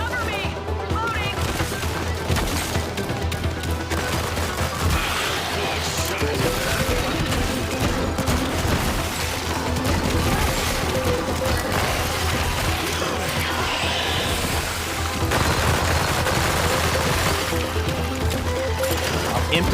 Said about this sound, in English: I'm emptying my gun.